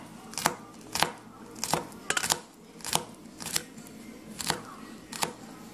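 A knife chops garlic on a cutting board in a home kitchen while a pasta dish is being made, with about ten sharp, evenly spaced chops, close and clear, a quick double chop among them, and no talk.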